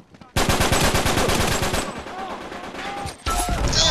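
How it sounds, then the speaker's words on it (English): Automatic gunfire in an Uncharted multiplayer match, a loud close burst of rapid shots followed by a quieter stretch of scattered game effects, then a sudden loud return of firing near the end. "stop shooting me"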